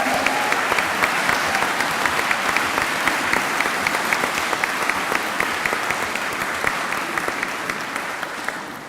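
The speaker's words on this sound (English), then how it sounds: "we nervously wait for applause or booing" Sustained audience applause at a fine art department conference, a dense steady wash of many hands clapping from start to finish and easing slightly toward the end, with no voices standing out.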